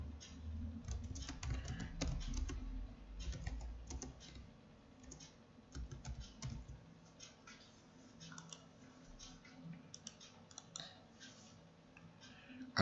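Rapid clicks from a computer keyboard and mouse while working through a chart in a spreadsheet, a busy, irregular clatter of close, fairly quiet taps with brief pauses, with no voices.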